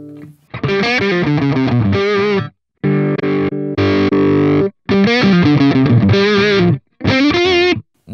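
An electric guitar played through a lead amp preset on a Line 6 HX Stomp, giving a loud, heavily distorted lead tone. Sustained bent notes and short phrases are separated by brief gaps.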